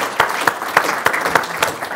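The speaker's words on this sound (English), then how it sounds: "Round of applause at that table as well." Brief applause at a property partner conference, a few loud, evenly spaced claps standing out over a soft crowd murmur.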